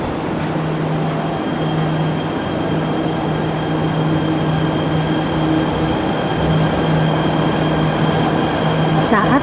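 Steady droning hum and rolling rumble inside a Jakarta MRT train running through an underground tunnel, constant and loud throughout.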